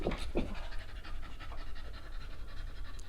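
A dog lying on its side pants in quick, steady breaths, close and fairly loud, with a couple of louder huffs at the start and no talking over it.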